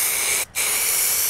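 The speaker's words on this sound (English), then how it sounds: "Whenever you have a new product, watch this. You're spraying." Paint spray can nozzle spraying basecoat while a motorcycle fairing is refinished, a loud continuous close hiss with one brief gap partway through.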